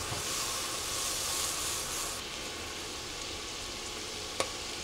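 Minced garlic sizzles steadily in melted butter in a pan on the stove, a soft continuous frying hiss with a light stir and one small clink near the end, no voices.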